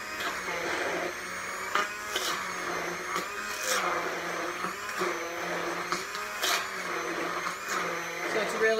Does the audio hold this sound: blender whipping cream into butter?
yes